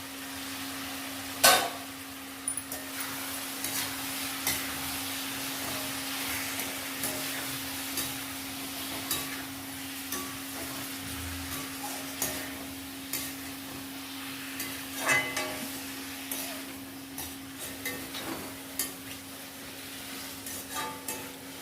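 Chopped tomatoes sizzle steadily in a hot pan, with occasional stirring scrapes and clinks over a constant low hum.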